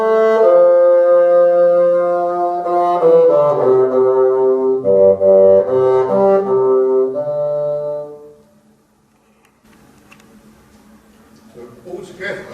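A bassoon, a long-tubed woodwind, holds sustained low notes in a steady, fairly loud melodic line that changes pitch every few seconds, then breaks off into near silence with faint rustling at the end.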